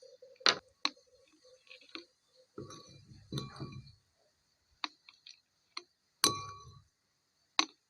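Glass bottles clink as they are filled with an egg and water mixture for a homemade microbial solution. About eight sharp, separate clinks ring close by against a quiet background, with no talking.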